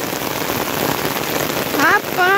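Heavy afternoon rain pours steadily in Saloá, Pernambuco, a dense, loud, close hiss with no break, and a voice briefly speaks over it near the end.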